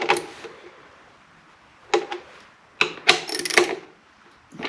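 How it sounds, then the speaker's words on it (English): Sheet metal screws being driven into thin metal while installing a Genie 2055 garage door opener: a few short, loud grinding bursts with gaps between them, close by, with no talk. "These are just sheet metal screws, and they're going into this metal, which is frankly not very thick."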